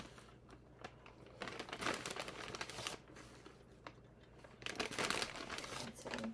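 Crinkling plastic packaging on a big bag of cheese, handled close by in irregular bursts of crackle and rustle, busiest around the second and fifth seconds, with no talk.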